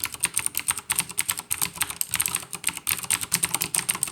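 Fast typing on a mechanical keyboard with blue switches produces sharp, crisp clicky keystrokes in a quick continuous stream, heard up close and fairly loud with no voices.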